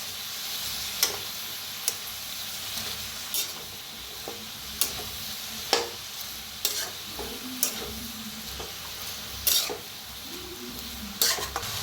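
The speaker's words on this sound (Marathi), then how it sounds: "आता एकदा जरा मिक्स करून घेऊया।" A spoon scrapes and clinks through a cabbage and vegetable mixture in a pan at regular intervals, with a soft sizzle of frying running underneath and no voices.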